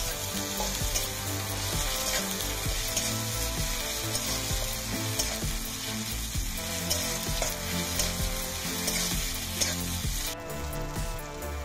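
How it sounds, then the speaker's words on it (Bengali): Ginger-garlic paste frying in hot oil in a pan, a steady close sizzle with regular stirring scrapes as it cooks for a Bengali cauliflower and duck egg curry. "এবারে আদা রসুন বাটাটা দিয়ে দেব।"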